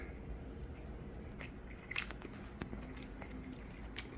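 Seasoned wild amaranth greens are bitten and chewed close up, giving faint, moist crunches and soft squishing in a quiet room.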